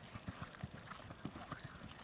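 Horse hooves clip-clop steadily on a riding-school surface during a lesson, fairly faint and evenly paced, with an irregular gait and faint background noise.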